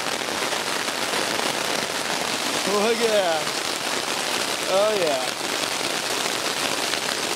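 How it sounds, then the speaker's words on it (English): Steady rain patters over a campsite at Parsons Landing on Catalina Island, a dense, even hiss that runs the whole time while a few people speak briefly over it. "Rain, rain."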